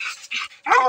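A bluetick hound treeing a raccoon gives three quick, hoarse barks up close, the last one loudest, outdoors.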